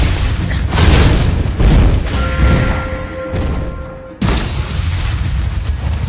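A turret is destroyed in the Mobile Legends video game, setting off a loud booming explosion with heavy rumbling bursts and a ringing tone before a second sharp blast.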